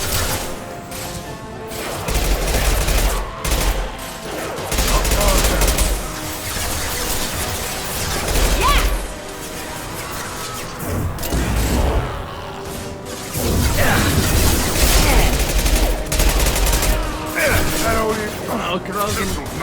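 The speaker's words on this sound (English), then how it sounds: "Firing an impact shot!" Impact shot ability firing in Mass Effect 2 amid combat: repeated booming gunfire, crashes and whooshes in loud bursts over dense game effects.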